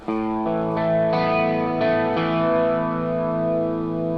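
Strummed electric guitar chords from an intro ring out with effects-laden tone, a few fresh strums back up two strings letting sustained notes shimmer and overlap.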